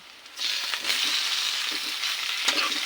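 Chicken pieces sizzling and frying in a pan for papaya flower adobo, a steady loud hiss that starts abruptly and continues with faint stirring, no talking.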